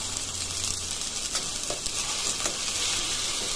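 Potatoes frying in oil in a pan for Bengali aloo dum, a loud continuous close sizzle with a few soft stirring scrapes, and no talking.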